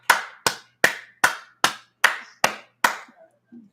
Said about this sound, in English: Get the claps up in here.